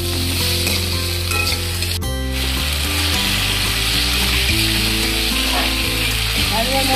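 Salted boiled potatoes are sautéed with spice paste in a pan for an egg and masoor dal dish, giving a steady, close oil sizzle with scraping stirs, over a constant tonal background hum.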